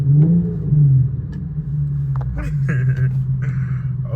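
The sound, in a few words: Infiniti Q50 engine revving in a tunnel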